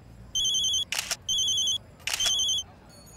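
A telephone ring in a police drama, two bursts of electronic trilling tones, each pair separated by a short rattling burst, clear and fairly loud with no talk over it.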